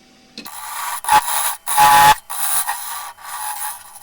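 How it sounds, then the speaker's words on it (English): A 1/2 inch square end scraper working wood on a lathe while a pagoda box is turned, giving several rasping, scraping bursts of about half a second each, broken by short pauses, close and fairly loud. "this is a 1/2 inch square end scraper"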